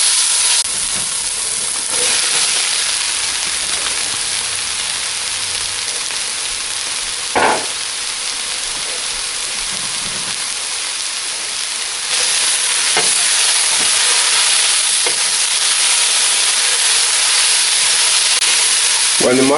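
Sliced mushrooms frying in a pan for spaghetti sauce give a steady, close, crackling sizzle throughout, with a few brief clinks or stirring knocks and no talk.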